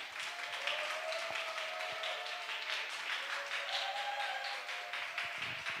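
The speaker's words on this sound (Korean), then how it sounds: "우리 염 원장님 나오실 때 큰 박수로 환영해 주시기 바랍니다" A church audience gives a warm round of applause to welcome a speaker, a soft, continuous patter of many hands heard from some distance, steady throughout without any voices.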